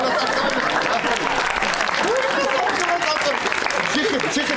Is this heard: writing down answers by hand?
no